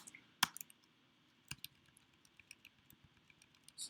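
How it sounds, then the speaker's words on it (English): Sparse clicks of typing on a computer keyboard, a few distinct keystrokes spread over a few seconds, quiet and close with no talking. "you can't see what I'm typing"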